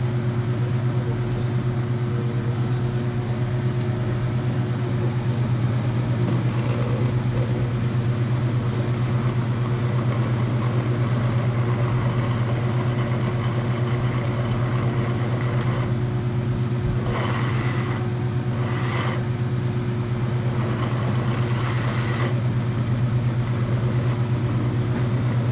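A blender runs continuously on jackfruit and water for jam, giving a loud, steady motor drone with a low hum, holding nearly unchanged from start to finish with only small shifts in tone.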